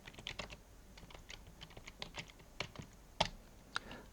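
Typing on a computer keyboard while entering text for a web page, quiet irregular key clicks with one sharper, louder keystroke near the end and no talking.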